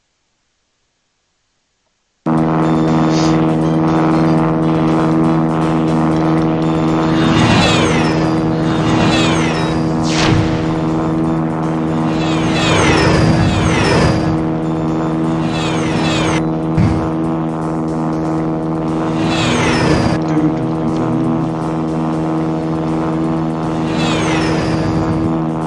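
Airplane engine drone from the flight section of the Sonic Adventure DX video game holds a loud, steady tone throughout, with repeated whooshing sweeps of passing objects after a silent start.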